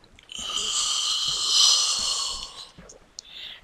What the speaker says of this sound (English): Sorry about that, yawning into the mic.